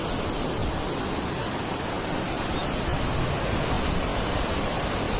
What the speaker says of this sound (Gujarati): આ બગીચામાંથી જુઓ કેટલું પાણી નીકળે છે